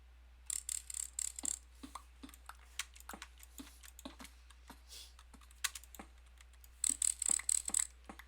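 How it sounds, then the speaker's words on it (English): Clicking of a parasect creature in Minecraft with the Advent of Ascension mod, sharp irregular clicks in quick bursts at close range, alongside intermittent high chirping trills. "Trying to follow the clicking sound because I'm still hunting those down for hive chunks."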